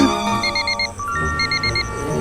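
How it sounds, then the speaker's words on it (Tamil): An alarm clock rings in repeated bursts of high electronic beeps, a short pause, then another run of beeps, fairly close and loud. "அலாரம் அடிக்கும் பாரு."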